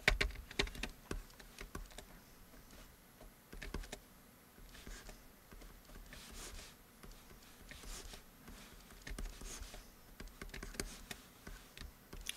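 Computer keyboard keystrokes as shortcut keys are pressed during product photo retouching, a steady run of quick, light clicks with short pauses, close and fairly quiet.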